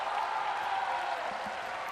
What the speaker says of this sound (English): the Chinese fans giving their team a round of applause